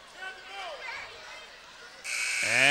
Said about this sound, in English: the buzzer will sound to end the first half